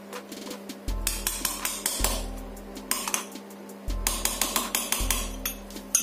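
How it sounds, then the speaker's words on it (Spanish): Sharp metallic hammer taps strike a part on a Husaberg 450 motorcycle engine in a workshop, coming in quick irregular bursts of close, ringing clinks with brief pauses between groups. "En martillo."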